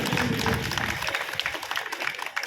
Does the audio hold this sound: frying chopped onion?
no